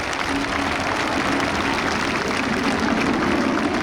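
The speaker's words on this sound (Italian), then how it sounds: "Facciamo un grandissimo applauso" Steady, dense applause from a large crowd at the Jesolo Air Show 2022, continuous and even throughout with no voices standing out.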